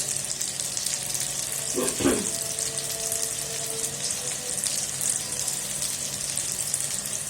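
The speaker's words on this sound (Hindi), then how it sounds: "इनका गोल्डन कलर आने तक इनको ब्राउन कर लूँ" Flattened potato cutlets (aloo katlas) frying in a pan until golden brown, with a steady hissing sizzle throughout and a single brief knock of a utensil partway through.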